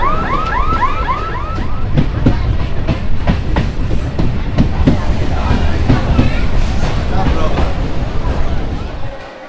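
Steady rumble and rhythmic clatter of a passenger train from Kolkata rolling along the rails toward Namkhana, loud and close, with a brief rising tonal whine at the start.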